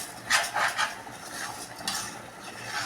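Washed rice is sautéed in a pot, giving light scraping stirs and soft clinks of a spoon against the metal over a faint background hiss, close and fairly quiet.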